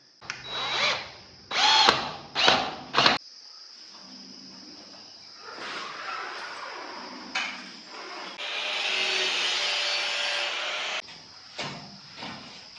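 A power drill with a 6 mm bit works during aluminium partition fitting, with several short whining bursts followed by a long, steady, loud drilling run and a few brief trailing bursts.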